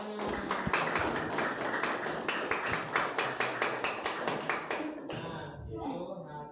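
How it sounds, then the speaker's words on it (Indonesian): A classroom group claps in applause for the final presenting group, a brisk run of overlapping hand claps that tapers off as voices carry on. "Tepuk tangan."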